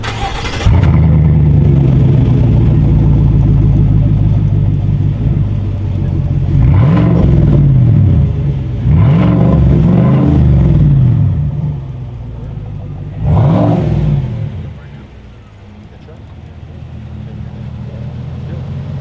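A 2020 GMC with a 6.2L V8 and a Blackwidow Widowmaker custom exhaust rumbles loudly, with three sharp revs rising and falling over a steady deep idle. Voices talk faintly in the background.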